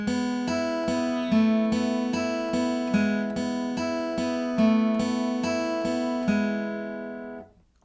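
Acoustic guitar picking a simple one-finger chord pattern, steady repeated plucked notes in an even rhythm with the chord shifting up and back, close and clean, ending on a fading ring.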